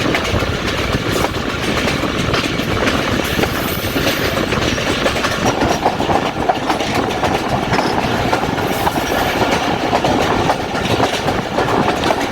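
Jaffar Express passenger train running on the rails between Quetta and Kolpur stations, a steady loud rumble of wheels with clickety-clack beats and rattling carriages throughout, no voices.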